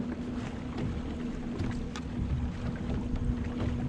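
Strong wind roars across open water during kayak drift fishing for catfish, a steady low rumbling buffet close on the microphone with no voices.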